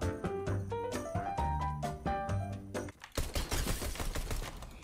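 Rapid pistol shots crack out in quick bursts during a Fortnite match, a dense string of sharp reports mixed with game music and effects.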